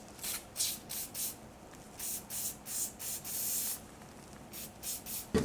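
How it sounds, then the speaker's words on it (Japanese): Several short, close aerosol bursts of KURE 5-56 penetrating oil hiss onto a seized tire valve and air pressure sensor, each spray lasting under a second, with one longer blast near the end. "この556、ネジのこの隙間に浸透するみたいなんで、こちらかけて放置しておきます。"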